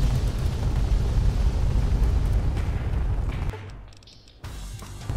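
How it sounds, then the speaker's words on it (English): A napalm strike in the Fallout: The Frontier game erupts as a loud, sustained roaring blast with heavy low rumble, dropping away briefly before the roar returns. "Oh, they're about to napalm us."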